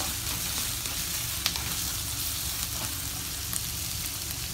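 Onions sizzle and fry steadily in a pan while being stirred, a dense continuous crackle with a couple of faint scraping knocks, close and alone without talk.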